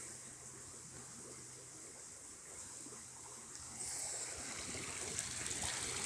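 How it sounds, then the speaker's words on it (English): Small creek on a rural nature walk, a faint steady babble of flowing water under soft outdoor ambience. "that's the little creek"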